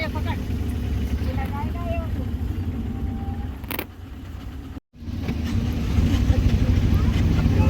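An auto rickshaw rides toward Omkareshwar, its engine rumbling steadily with road noise and rattles under continuous talking, a brief dropout midway, then the drone resumes louder.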